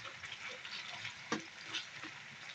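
Potatoes fry in a pan with a soft, continuous sizzle, close but fairly quiet, broken by a couple of brief stirring scrapes.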